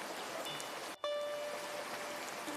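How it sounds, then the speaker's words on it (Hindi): Steady rain pattering and dripping as a story sound effect for heavy rain on a leaking roof, a constant close hiss broken by one brief dropout and a faint tonal ring, no talk. "एक रात तेज बारिश हो रही थी। छत टपक रही थी।"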